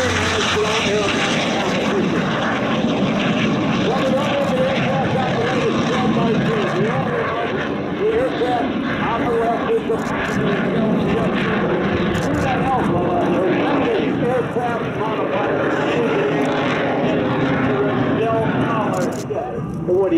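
A Yak 110 aerobatic aircraft roars through a display at the 2019 Fort Worth Alliance Airshow, its engine noise loud and continuous, while an announcer talks over it.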